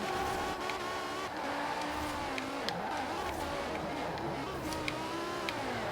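A BMW M5 E60 drifting in the racing video game Forza Horizon 4 through city streets, a steady, loud engine drone with shifting pitch and faint tire squeal, with someone talking over it.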